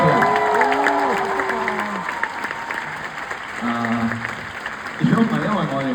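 A concert audience at a live pop show applauds with steady, full clapping, while voices sound over the crowd noise and the clapping swells slightly near the end.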